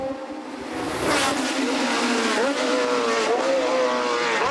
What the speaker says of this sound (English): Here in Monaco at the Grand Prix Historique, we see the greatest racing cars in the world.